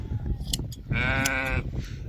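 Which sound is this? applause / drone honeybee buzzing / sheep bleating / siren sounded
sheep bleating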